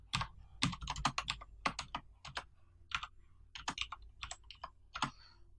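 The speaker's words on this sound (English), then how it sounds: "trying to find where it is on my keyboard" Fingers tap irregular bursts of clicky keystrokes on a computer keyboard during a JavaScript programming lesson, close and clear with short pauses between clusters, no talking.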